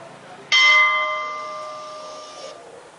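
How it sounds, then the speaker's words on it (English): A traditional school period bell from an electronic bell controller strikes once sharply and rings on for about two seconds, fading slowly, clear and alone. "Period bell."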